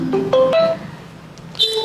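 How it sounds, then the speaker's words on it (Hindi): A phone rings with a short electronic ringtone, a few quick rising tonal notes followed after a pause by a higher repeated tone, close and clear. "भाभी का फोन।"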